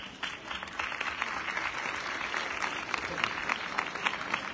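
A large audience at a Christmas concert of schoolchildren applauds in a steady, dense patter that stays even and moderately distant throughout, without a voice over it.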